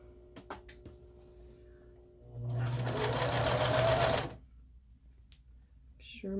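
Sewing machine runs in one steady, fast-whirring burst of about two seconds while stitching strips for a scrappy string quilt, close and moderately loud, framed by quiet handling clicks and rustles before and after.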